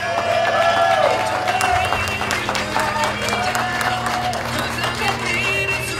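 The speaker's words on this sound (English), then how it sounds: "Let's give a big round of applause for all of our winners." Crowd at a city 5K race claps and cheers steadily for the winners, busy applause mixed with crowd noise and a low music hum beneath, with some voices through it.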